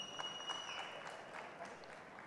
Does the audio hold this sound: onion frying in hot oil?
no